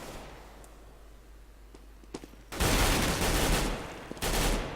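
Sustained automatic gunfire in a Counter-Strike: Global Offensive match on Inferno, loud dense bursts after a few isolated shots, continuing in two long volleys.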